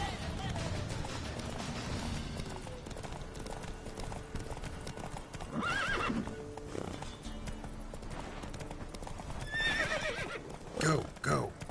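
Horse hooves clip-clop at a gallop in The Witcher video game, a steady rhythmic pounding under a continuous game soundscape, with neighs and whinnies breaking through near the end.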